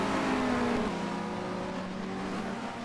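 Touring race cars at Barcelona's 1990 World Touring Car Championship round, engines droning steadily with a pitch drop as one shifts or passes, heard at moderate distance from trackside.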